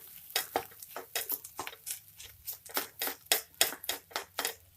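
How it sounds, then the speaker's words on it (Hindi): Fish eggs stirred and fried with spices in a kadhai, giving a close, steady run of quick scraping and sizzling strokes. "अब हम एक बार हमारे जो अंडा है उसको सेक कर लेंगे।"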